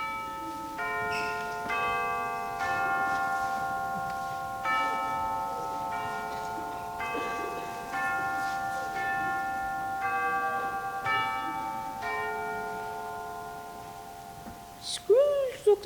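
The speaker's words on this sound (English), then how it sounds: "The chimes were ringing 11:15 at the moment." A church bell sounds in a school stage production of A Christmas Carol, ringing a run of evenly spaced, resonant chimes with long overlapping sustain, fairly close and steady, ending with a brief brighter clang.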